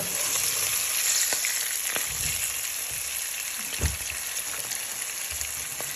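Cauliflower pieces fry in oil with a continuous close sizzle and a few scattered pops and small knocks.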